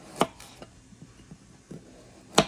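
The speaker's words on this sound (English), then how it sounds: "I'm just going to do diagonal slices" A knife cuts through garden cucumbers in diagonal slices for pickles, with sharp taps on a cutting board at the start and end and several softer cuts in between, close and alone.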